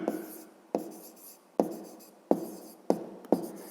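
A pen on paper writes a school maths exercise in six short scratchy strokes, each starting with a sharp tap and fading, spaced at irregular intervals, close and quiet.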